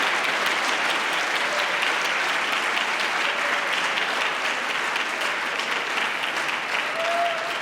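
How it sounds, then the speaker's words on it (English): Sustained, dense applause from a large audience at a youth prize ceremony in Aachen honoring the event team, a steady loud wash of clapping with no speech over it. "I want the biggest applause for our incredible team"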